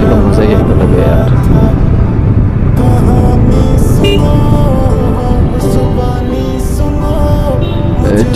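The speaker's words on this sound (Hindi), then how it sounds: "आज बाइक की साउंड है ना वो इतनी डिफरेंट है, इतनी जबरदस्त, जैसे Z900 की साउंड लग रही है" A motorcycle rides fast through city traffic, its loud, steady engine roar and rushing wind filling the whole stretch without a break, with other traffic noise mixed in.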